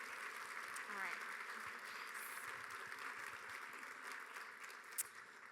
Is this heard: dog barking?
no